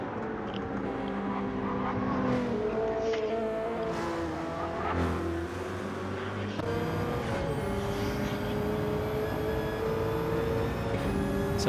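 Subaru BRZ Gr. 3 race car engine at Interlagos in Gran Turismo, a continuous revving howl rising and falling through gear changes, loud and steady with other cars faintly around.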